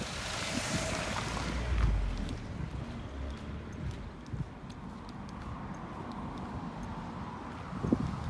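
A river of clear water in Kentau flows past near the town administration and police building, a steady broadband rush with wind buffeting the microphone and a couple of brief thumps, continuous throughout.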